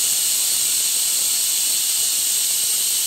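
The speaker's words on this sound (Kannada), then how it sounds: "ಈಗ 4 ವಿಸಿಲ್ ಆಗೋ ತನಕ ವಿಸಿಲ್ ತಗೊಂಡು ರೆಡಿ ಆಗಿರ್ತದೆ ಮಟನ್" A pressure cooker holding mutton gravy releases a loud, steady hiss of steam that continues unbroken from start to finish, close by, with no voices.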